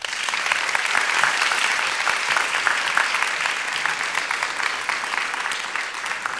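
Audience at an environmental conference clapping for the keynote speaker, a dense, steady round of applause from a large indoor crowd that holds its level throughout.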